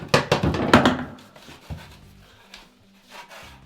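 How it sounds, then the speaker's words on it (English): A handsaw cuts through 100mm PVC pipe for a toilet drain in a bathroom renovation, a burst of fast close rasping strokes that fades into a few softer scrapes and knocks. "So we're going to cut our 100mm PVC pipe for the toilet."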